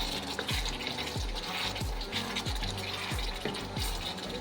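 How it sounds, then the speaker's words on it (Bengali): New potatoes stirred and fried with tomato in oil in a pan, a spoon scraping through the mixture in regular strokes about every 0.6 seconds over a steady sizzle, close and alone. "আলুগুলো একটু নাড়াচাড়া করে ভেজে নেব"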